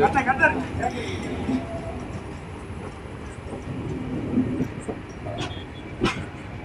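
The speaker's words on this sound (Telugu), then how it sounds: "GOC WDP40 అండి ట్రై కలర్ లోకోమోటివ్ అయితే." Train hauled by a GOC WDP40 tri-colour diesel locomotive rumbling along at moderate distance, a steady low roar with faint clicks and a few sharp knocks, heard from on board near Mandapam railway station.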